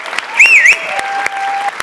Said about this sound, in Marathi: बुंबाट, सुसाट, जोरदार टाळ्या